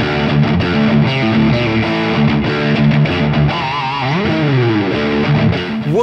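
An electric guitar played through a ROSS distortion pedal gives a loud, saturated, buzzy tone, with sustained chords followed by a bending lead phrase, and no talking over it.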